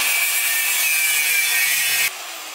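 An angle grinder cuts through semi truck leaf spring steel, a loud, steady high-pitched grinding whine with a ringing edge that runs for about two seconds, then drops off abruptly to a lower, quieter hiss.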